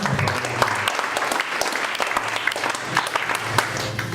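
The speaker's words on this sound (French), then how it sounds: "Acclamons la parole de Dieu." A church congregation breaks into steady, sustained applause that fills the space and carries on throughout, dense and fairly loud, with no talking over it.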